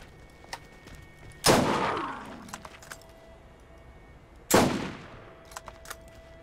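A sniper rifle in the video game Borderlands fires two sharp, loud cracks about three seconds apart, each shot ringing out and decaying into a fading tail, with small clicks and clatter between them.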